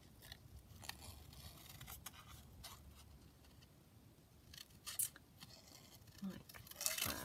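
Scissors snipping out paper pieces for a junk journal, quiet close scratchy cuts in short irregular clusters, with a few louder clicks of the blades near the end.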